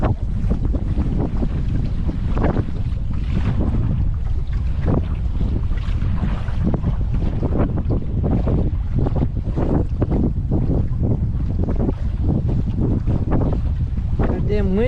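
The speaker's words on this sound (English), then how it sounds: "Goddamn wind could die down" Strong wind buffets the microphone on an open boat ride near Hoover Dam, a loud continuous roar with rhythmic gusts and rumble throughout, masking any voices.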